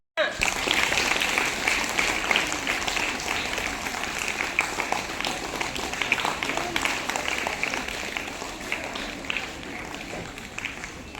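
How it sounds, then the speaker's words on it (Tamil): Sustained applause from a crowd of students at a girls' government higher secondary school Independence Day celebration, steady dense clapping throughout with voices mixed in. "நல்லா கைத்தட்டுமா"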